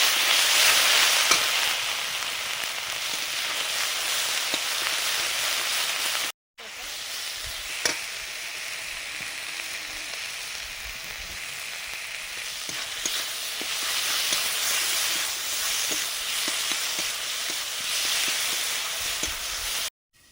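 Ginger garlic paste frying in hot oil with whole cumin and turmeric, a loud, dense, continuous sizzle close up, briefly cut off near the start, with faint stirring clicks underneath.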